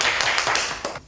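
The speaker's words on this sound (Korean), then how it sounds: "박수!" Applause from a small class of schoolchildren welcoming a new second-grade transfer student at a rural branch school, a short burst of brisk, close clapping that fades within about a second.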